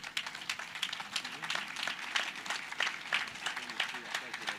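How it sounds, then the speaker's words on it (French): A small conference audience gives faint, fairly quiet clapping for two guest speakers, with individual claps standing out at a distance and murmuring under them. "On peut les applaudir."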